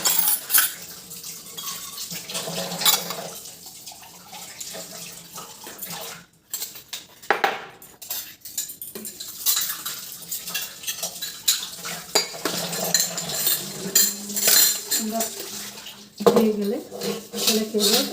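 Dishes and plates are washed under a running tap, with steady water flow, clinking cutlery and clattering plates, and scrubbing and rinsing throughout at close range.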